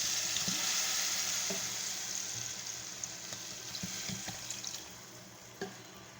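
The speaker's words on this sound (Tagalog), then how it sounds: "kaya lalagyan na po natin siya ng sabaw" Broth is poured into chicken tinola as it cooks. A loud sizzle and watery rush fades into softer bubbling, broken by a few light clinks and taps.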